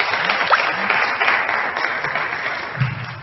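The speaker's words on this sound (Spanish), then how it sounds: "un aplauso muy grande" Sustained applause from an audience at a book presentation in a park library, a steady dense wash of clapping lasting throughout, fairly loud and close.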